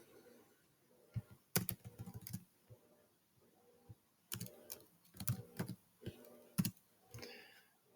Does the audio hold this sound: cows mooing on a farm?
no